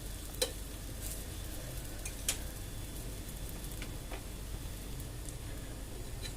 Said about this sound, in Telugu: బాగా కాల్చుకుంటే కొంచెం క్రిస్పీగా ఉంటుంది అన్నమాట దోశ